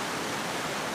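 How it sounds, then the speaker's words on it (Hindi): A secret waterfall in Rishikesh pours as a steady, dense wash of broadband noise, close and constant with no other sounds over it. "ये सीक्रेट वाटरफॉल है"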